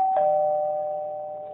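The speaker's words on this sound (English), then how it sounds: "It's the doorbell ring." A single doorbell chime rings out clearly and then fades slowly, its tone lingering for over a second in a quiet room.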